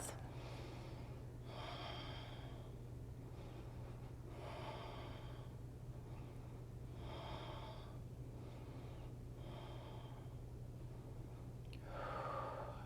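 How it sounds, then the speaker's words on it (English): Slow, deep breathing during a yoga session, with about five long inhale-exhale cycles at an even, unhurried pace, close and clear over a steady low hum. "Breathing in and out, 4 more breaths."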